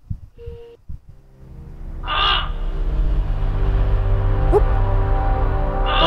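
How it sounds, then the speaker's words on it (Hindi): A bird caws in the indie video game Samorost 1, with two harsh calls, one near the start and one at the end, over a steady low game ambience and a few soft clicks. "ये चिड़िया आई उसको उठा लेगी,"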